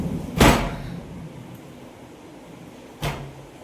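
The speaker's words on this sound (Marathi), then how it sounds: "जा पटकन दार लावून जा" A door is shut twice during a thunderstorm, giving two sharp thuds a few seconds apart, with a quiet background of rain between them.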